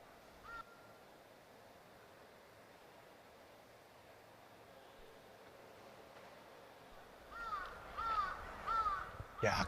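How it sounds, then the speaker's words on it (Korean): A crow caws several times near a beach, a few harsh calls that grow louder toward the end over a steady background hiss of surf or wind. "까마귀가 운다 울어"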